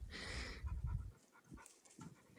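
A Gordon Setter pants close by in quick rapid breaths, followed by quieter, softer panting puffs.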